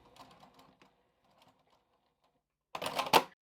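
A sewing machine runs a short back stitch near the bottom fold of a snap pouch: a single brief, loud mechanical burst that follows a stretch of quiet, faint handling.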